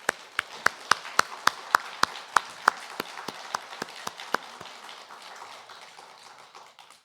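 A church congregation applauds in unison at Sunday worship after a choir's hymn, about sixteen sharp, evenly spaced claps in a steady beat that fade out into quiet room tone.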